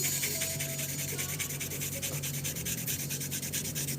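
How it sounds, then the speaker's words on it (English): Sandpaper rubs steadily back and forth over wood in a quick, even scratching rhythm, close up, with no talking. "By erasing, I mean sanding."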